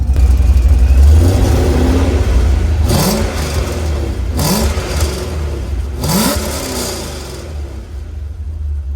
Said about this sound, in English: you can hear the cam at idle. It's not a heavy cam, the lobe separation isn't insane, it's just something mild for boost that sounds pretty decent.